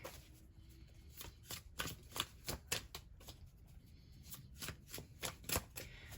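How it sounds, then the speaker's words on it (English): Tarot cards are shuffled close up in quick, repeated riffles, a crisp rhythmic flutter of paper with no talking. "Let's just shuffle up the tarot cards really quick."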